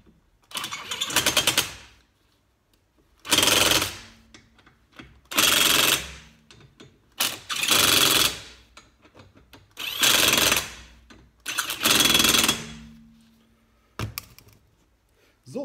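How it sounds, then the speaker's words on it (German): Pneumatic impact wrench tightening car wheel nuts on its lowest setting during a tyre change, sounding in six loud, evenly spaced rattling bursts of about a second or two each, separated by short silences, with no talk. "anschließend ziehen wir die erstmal auf der niedrigsten Stufe mit dem Schlagschrauber fest"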